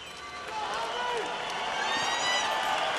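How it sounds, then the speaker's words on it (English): A boxing arena crowd stirs with excitement before a heavyweight bout featuring Sultan Ibragimov, a broad roar of voices and cheering swelling steadily, with an announcer's voice heard over it. "The crowd getting excited about this man, Sultan Ibragimov"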